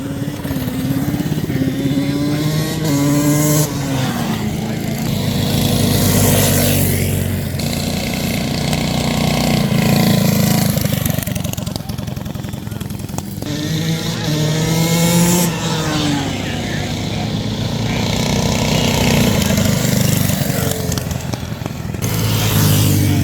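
Several 125cc two-stroke minibikes race past on a track, engines loud and close, revving up and down in rising and falling sweeps through the whole stretch, with crowd noise and commentary underneath.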